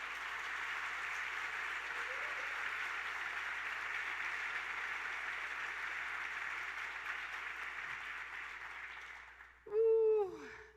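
A church congregation applauds in a worship service, a steady, distant wash of clapping that holds evenly for several seconds before fading, followed by a brief, sharp chirping sound at the end.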